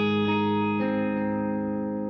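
A sustained electric guitar chord, run through reverb, delay and a compressor, rings out with lush reverb and a trailing delay, a second strum near the start, decaying slowly without any talk.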